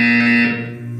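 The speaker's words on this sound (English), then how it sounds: "You will hear a buzzer." A loud harsh electronic buzzer from the video game Portal 2 sounds as a single sustained tone, close and alone, cutting off after about half a second into a quieter hum.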